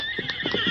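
Silver, the horse in an old-time radio drama, gives a short, bright whinny as a sound effect, sounding close and clear with no voices over it.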